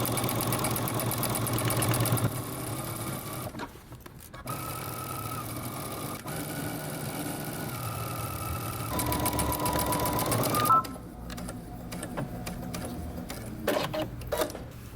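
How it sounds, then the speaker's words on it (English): A sewing machine runs in bursts, back-stitching and then sewing a jeans seam, with short pauses between runs and a steady mechanical chatter close by. "Back stitch and sew."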